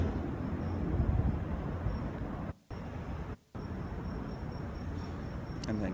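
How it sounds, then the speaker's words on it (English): Cicadas in Hong Kong give off a steady, dense, high-pitched drone over low city rumble, with two short cuts to silence partway through. "cicada."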